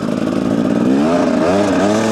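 A 2-stroke 300cc motorcycle accelerates loudly and close by, its buzzing engine note climbing in pitch through a short burst with no voices.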